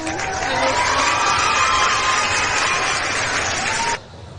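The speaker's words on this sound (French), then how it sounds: "Ces applaudissements, hein, on les connaît." A convention crowd at a geek festival in Angers cheers and applauds loudly and steadily, with shouts and whistles over dense clapping, before the noise cuts off abruptly near the end.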